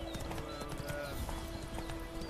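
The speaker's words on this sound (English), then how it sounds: "Riding the stallion." A stallion's hooves clop steadily in a woodland ride in The Witcher 3, a continuous rhythmic galloping beat over an ambient game soundscape.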